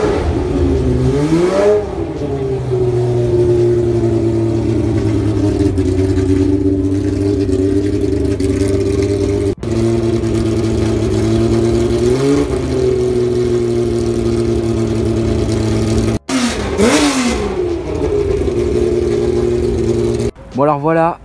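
Classic sports cars, among them a Singer Porsche, rolling in for the Tour Auto arrival, engines idling and revving loudly and close by in a steady drone with occasional throttle blips.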